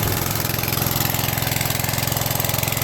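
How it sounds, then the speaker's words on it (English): An off-grid generator engine charging a battery between saw cuts, idling down to a lower speed with a steady, loud, pulsing drone and no voices. "it's charging the battery in between saw cuts at 1800 RPM rather than 3600 RPM"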